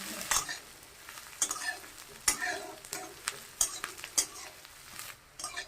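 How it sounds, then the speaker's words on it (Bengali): Chopped onion fries in mustard oil with cumin in a wok, a steady close sizzle broken by sharp scraping stir strokes every second or so, with no voices. "পেঁয়াজটা ভাজা হয়ে গেছে"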